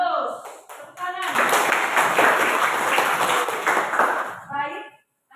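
Pupils in a classroom lesson clap together on cue. Brisk, close clapping from a group lasts about three seconds, framed by a teacher's voice speaking before and after.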